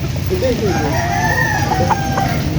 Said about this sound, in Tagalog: Ang mga lahi po ng manok niya dito ay kay Bako, Bacolod Eagle, Sandy Sagon, mga